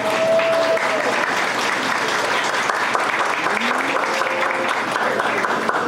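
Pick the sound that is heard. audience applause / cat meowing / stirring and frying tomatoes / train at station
audience applause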